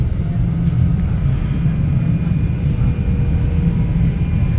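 A Merseyrail electric train bound for Liverpool Central rumbles along in a loud, steady low drone with a faint high whine, heard from inside the carriage.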